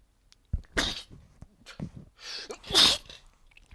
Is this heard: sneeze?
yes